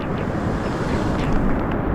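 Floodwater of the swollen Guadiaro river rushes past the bank near Benaoján station in a steady, dense roar, with wind buffeting the microphone throughout and no talk.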